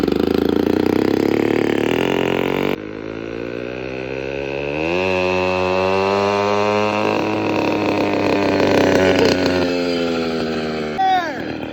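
Motorized bicycle engine with a nitrous (NOS) kit buzzes loudly close by, dropping briefly and then revving up in a rising, climbing whine, with people talking over it.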